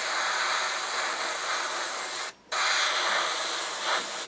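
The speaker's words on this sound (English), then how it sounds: "I'm only going to be spraying for a few seconds" A continuous airy hiss of an airbrush spraying paint onto a figure, briefly cut off for a moment before resuming steadily.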